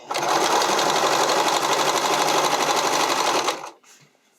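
A sewing machine stitches elastic onto a garment neckline in one loud, steady mechanical run of about three and a half seconds, then stops abruptly.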